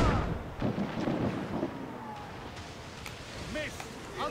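Ship cannons fire in Assassin's Creed IV: Black Flag, several booming blasts in the first second and a half over rolling sea and ambient game sound, with voices calling out later in the clip.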